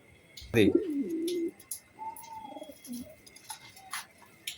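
Budapest racing pigeons coo in a close, loud burst with a rolling tone, followed by softer coos and chirps over faint background noise.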